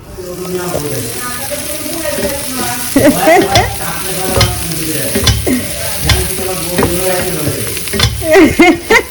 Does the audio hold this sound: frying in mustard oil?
yes